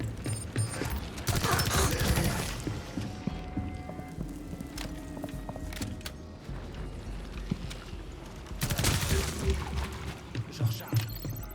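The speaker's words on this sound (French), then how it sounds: "Je recharge." A weapon is reloaded in Rainbow Six Extraction, giving crisp mechanical clicks and clacks. Bursts of game noise sound at the start and again near the end.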